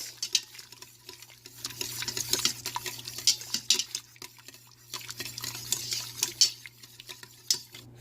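Cream being stirred into a pepper and tomato sauce in a pan, with repeated soft scraping and clinks of a utensil against cookware over a steady low hum, no voices.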